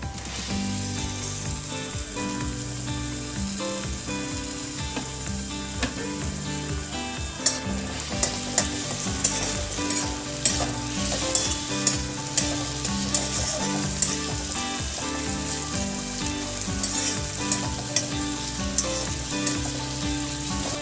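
Tomatoes sizzle and fry steadily in a hot pan in a Marathi home kitchen, with a spoon stirring and scraping in regular clicks over continuous loud crackling, no voices.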